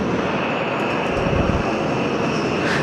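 Machinery in an ERW pipe factory runs steadily as hydraulically driven rollers push straightened, uncoiled coil plate toward the accumulator, a continuous broadband industrial roar with no pauses.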